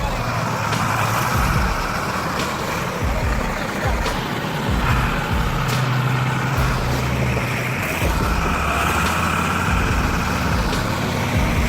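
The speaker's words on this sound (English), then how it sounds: "timber truck roars like a hungry grizzly bear" An old 6x4 V8 timber truck roars steadily on rough terrain, a loud continuous diesel engine drone filling the whole stretch with no letup.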